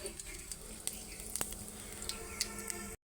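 Black cumin seeds sizzle in hot oil in a pan, a steady close crackling hiss with small scattered pops throughout.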